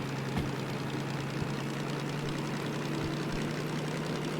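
A boat engine held near idle at about 800 RPM while throttle and gear settings are stepped through, a steady low hum with a constant tonal drone and faint knocks, unbroken for the whole stretch.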